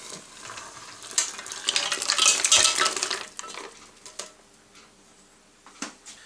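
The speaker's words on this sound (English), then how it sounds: "we're going to add the contents of this pan into the soup pan" Cooked mussels, anchovies and prawns with their liquid tipped from one pan into a soup pan, a rushing wet pour and clatter lasting a couple of seconds, followed by a few metal knocks and scrapes, close, no speech.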